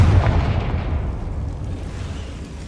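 Confringo fire spell explosions in the video game Hogwarts Legacy: a loud booming blast at the start that rolls off into a long, dense rumbling decay, with no talk.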